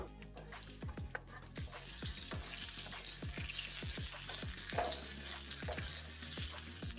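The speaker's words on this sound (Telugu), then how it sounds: "వీటిని మనం వేయించుకోవాలండి." Dried chillies, cumin, mustard seeds and chana dal frying in a pan, a continuous hiss of sizzling oil with repeated sharp pops and crackles of seeds bursting, close by and without speech.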